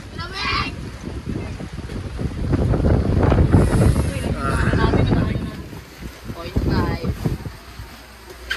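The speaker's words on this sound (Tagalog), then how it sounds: "Talagang tinitira ng hangin, inuuna yung bubong" Typhoon wind gusts buffet the microphone in heavy, rushing bursts while a person talks over the roar.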